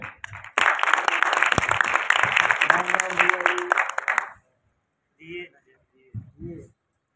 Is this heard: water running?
no